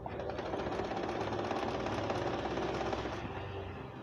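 A sewing machine stitching the side seams of a panel skirt, a fast continuous mechanical rattle running steadily and close throughout, with no speech.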